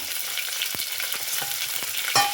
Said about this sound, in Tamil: நல்லா வதங்கட்டும் இப்போ நல்லா பொறிஞ்சிருச்சு வெங்காயம்